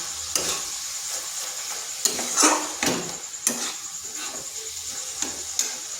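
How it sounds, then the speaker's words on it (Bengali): Carrot and milk mixture being stirred in a pan until dry for carrot laddu, a spoon scraping in repeated strokes over a steady soft sizzle, close and moderately loud. "এটাকে নেড়ে নেড়ে এইভাবে মানে শুকনো করে নিয়েছি"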